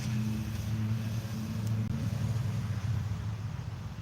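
A van's engine idling with its exhaust running, a steady low rumble that stays constant and moderately loud throughout, with no voices.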